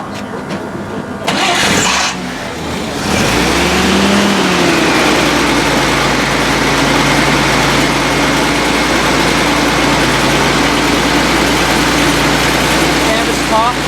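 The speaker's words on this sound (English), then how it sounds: "I will start the engine for you." An old military vehicle engine at an air force base museum cranks briefly via a floor-mounted starter, catches and settles into a steady, rumbling idle that carries on loud and close.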